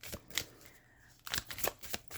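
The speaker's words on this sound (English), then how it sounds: "I'm going to shuffle these actually." A deck of Sacred Geometry oracle cards is shuffled by hand, giving quiet riffling and papery slaps in short bursts, close and soft with no talk.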